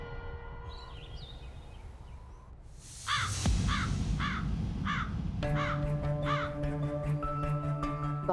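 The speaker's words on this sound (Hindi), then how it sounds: "बाहर तो एक भी कौवे दिखाई नहीं दे रहे, तो फिर हमें उनकी आवाजें कैसी?" A crow caws in a run of about five evenly spaced, harsh calls, fairly close and clear, followed by a ringing bell-like tone that sustains underneath the last caws.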